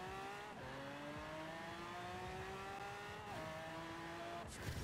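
A 2,300hp-per-tonne hypercar in Forza Horizon 4 launches and accelerates hard, its engine note climbing steadily and dropping sharply at two quick gear shifts before revving up again, loud and up close with no talking.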